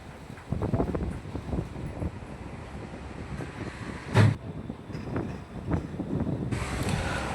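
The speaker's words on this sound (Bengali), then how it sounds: "আমাদের ট্রেন ঢুকছে খিদিরপুর স্টেশনের দিকে।" Rumbling train noise with clattering wheels and wind buffeting, steady and fairly close, with a sharper clank midway and a hiss near the end.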